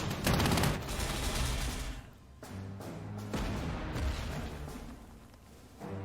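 Sustained gunfire and artillery pound German tanks near Calais in Panzer Corps 2, a dense, continuous barrage of overlapping shots and booms in repeated bursts, loud and close, with no voices.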